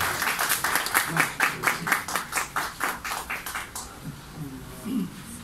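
Rhythmic group clapping for an education officer at a stage event, beating in regular unison pulses, then fading out as a voice and background murmur remain.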